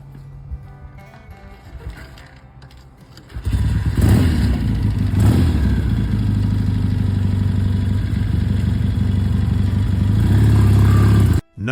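A classic British motorcycle sits quietly at first, then its engine fires and settles into a loud, steady mid-pitched running note that continues close by until it cuts off at the end.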